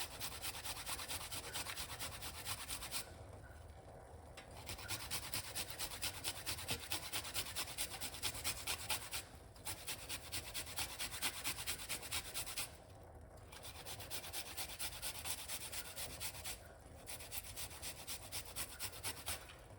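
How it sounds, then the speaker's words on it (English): A small piece of ginger rubbed against a kitchen grater, a steady close rasping scrape that runs in long repeated strokes with brief pauses between passes. "we're going to grate a little piece of a ginger inside of it like this"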